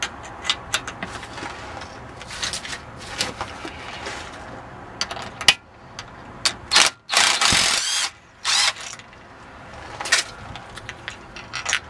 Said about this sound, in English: Next step, loosening off this centre bolt